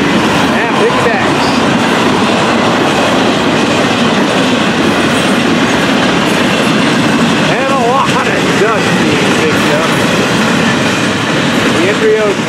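Florida East Coast freight train passing close with locomotives at the head end, a loud continuous rumble and clatter of wheels with faint squeals, while people talk.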